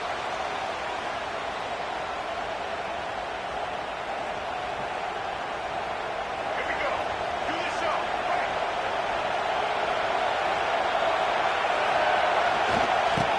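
Steady, dense stadium crowd roar from a Madden football video game, loud and continuous throughout, swelling slightly near the end, with commentary voices over it.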